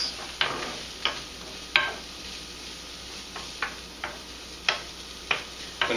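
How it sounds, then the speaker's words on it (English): Ham tossed into a pan of softening peppers sizzles quietly and steadily, punctuated by sharp, regular clicks of a utensil stirring and tapping against the pan. "Then I'll go ahead and throw the ham in"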